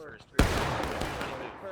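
A sudden massed musket volley erupts in a large 300-player Civil War battle in War of Rights, one sharp crack followed by sustained crackling fire and rumble, with a commentator talking faintly underneath.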